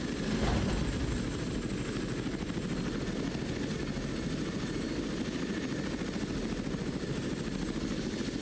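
A KA-58 Black Ghost helicopter's rotor thrums steadily throughout in the video game Modern War Tanks, a loud continuous drone with a brief burst near the start.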